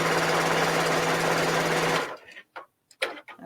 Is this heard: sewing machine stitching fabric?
yes